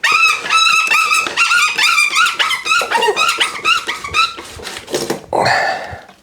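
Loud, high-pitched metal squealing in rapid repeated bursts as a reamer is twisted and pulled in a broken carbon seatpost stuck in a bike frame, shrieking close up before a final scraping grind.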